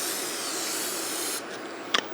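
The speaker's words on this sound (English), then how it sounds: "Spray your skillet to make sure that the stuff you're toasting not gonna burn and destroy your pan" Cooking spray hisses onto a skillet in one steady burst of about a second and a half, close and fairly quiet, followed by a brief clink as cinnamon, star anise and black cardamom are prepared for toasting.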